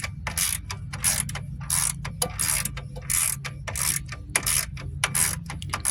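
A ratchet tightens bolts during collision repair on a damaged 2009 Hyundai Santa Fe. It gives close, loud bursts of rapid clicking in repeated strokes, with short pauses between the runs and no talking.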